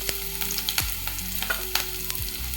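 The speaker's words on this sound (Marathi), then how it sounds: "हे परतून घेऊ चांगलं." Onion and chili pieces sautéing in a pan, with a steady near sizzle broken by a few sharp scraping stirs of a spoon against the pan, no voices.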